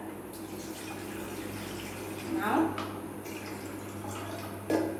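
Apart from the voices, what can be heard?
water being drained from a pot of soaked brinjals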